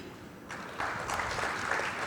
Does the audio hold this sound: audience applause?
yes